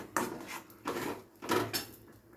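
Prawn and bottle-gourd-leaf mash stirred continuously in a pan to dry it out, giving three scraping, rubbing strokes of a spatula against the pan, close and fairly quiet, with short pauses between.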